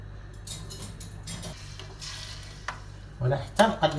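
Meat fries in a pan with spices and garlic, a soft steady sizzle under the scrape and clink of a utensil stirring, the stirring growing louder toward the end.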